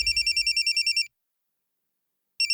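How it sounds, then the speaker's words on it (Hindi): A telephone ringtone trills in a fast repeating electronic burst for about a second, stops for a pause, then starts again right at the end. The sound is clear and close in a quiet room, and no one talks over it. "रिया भाभी भी फोन कर रही है।"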